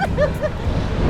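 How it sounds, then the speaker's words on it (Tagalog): Steady rushing surf from nearby waves fills the clip, with a few high bird-like chirps briefly above the noisy wash of the sea. "At tanging maririnig nyo lang ay yung tunog ng dagat."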